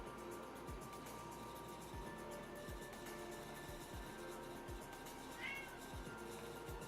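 A cat meows once, faintly, against quiet background noise and a series of soft low thumps.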